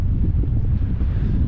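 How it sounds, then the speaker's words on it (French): Strong mountain wind gusts of at least 60 km/h buffet the microphone in a continuous low, rumbling roar that stays loud throughout the short stretch, with no speech. "là c'est des rafales de vent à au moins 60 km/h"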